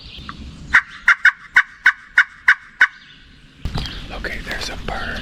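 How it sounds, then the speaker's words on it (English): A wild turkey gobbles in the distance, a quick series of about eight sharp rattling calls, then the clip gives way to rustling and faint whispering nearby. "there's a bird gobbling"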